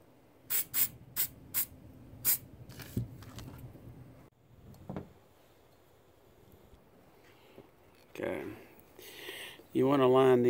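Several short, sharp hissing bursts from an aerosol can of silicone spray in quick succession, aimed at a Jeep XJ wiper arm, followed by a few quieter spritzes and some handling noise.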